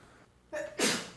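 One close sneeze, a quick intake of breath followed by a forceful burst, with no talking.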